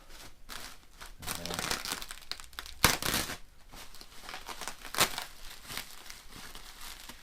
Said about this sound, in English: we'll unwrap everything